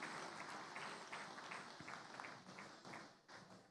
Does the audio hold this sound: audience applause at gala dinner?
yes